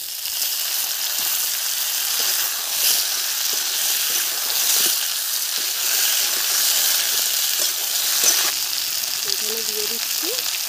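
Onions and potatoes fry in the small amount of oil left over from frying rohu fish, a steady broadband sizzle and hiss running throughout with faint scattered stirring clicks.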